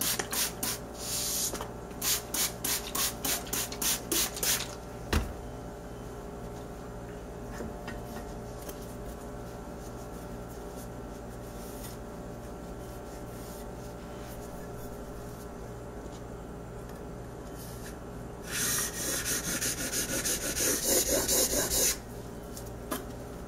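A Norton sharpening stone is scraped and rubbed clean of residue in short, rhythmic rasping bursts, then a long quieter stretch of faint scuffing, before another run of brisk, close scrubbing strokes.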